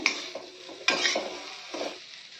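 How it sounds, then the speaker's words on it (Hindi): Carrot, amla and green chili pickle cooks on a slow flame in a pan while a spoon stirs it, a few soft scraping strokes over a faint low sizzle, quiet and close. "फ्लेम को हम स्लो रखेंगे और इसको 2 से 3 मिनट ऐसे हिलाते हुए पकाएंगे"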